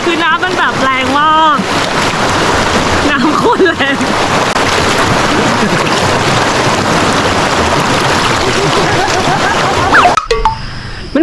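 Strong water current rushes through a waterfall stream at a campground, a loud, continuous close roar that runs throughout, with a person talking over it at the start.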